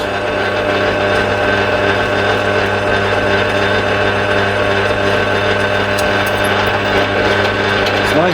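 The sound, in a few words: pillar drill running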